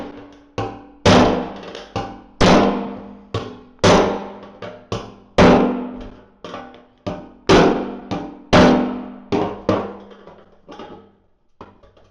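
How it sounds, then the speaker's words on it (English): A hammer drives a flat screwdriver through metal, sharp heavy clanks at an uneven pace, close by, each ringing briefly before the next. "Flat screwdriver, nice hammer."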